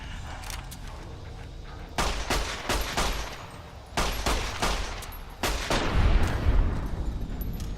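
A damaged, badly worn shotgun fires repeatedly in Fallout: New Vegas, a series of heavy booming blasts at irregular intervals with rumbling low-end tails, several shots clustered closely together.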